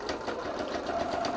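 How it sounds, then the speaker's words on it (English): A sewing machine stitches a slip-on dog bandana, its needle chattering in a fast, even rhythm up close, alone for a little over a second. "you always can do a second stitch with the sewing machine"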